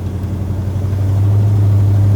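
A 1970 Oldsmobile Cutlass 442 replica cruises down the road, its exhaust giving a steady, low, droning rumble that holds level and grows slightly fuller toward the end, with no voices.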